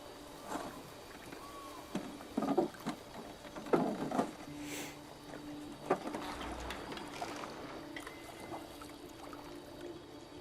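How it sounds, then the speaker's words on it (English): Oars dipping and splashing in calm water as a boat is paddled on a lake in Detroit: Become Human, soft irregular splashes and drips close by over a quiet ambient bed with gentle pattering. "You're supposed to keep paddling, Connor."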